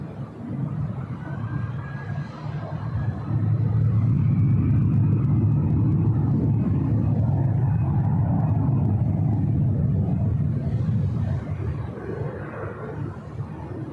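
A jet airliner takes off from runway 24 left at LAX, a broad distant rumble that swells and holds steady for several seconds before easing slightly, with no talk.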